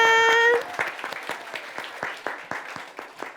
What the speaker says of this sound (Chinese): 再一次的给我们的赞美乐团，还有我们刚刚最棒的合唱团一个热烈的掌声